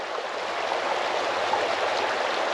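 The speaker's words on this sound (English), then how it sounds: "So now the water is to the top of the hose" Water rushes steadily through a hose for an off-grid water supply, a continuous broadband flowing hiss at constant level with no talk.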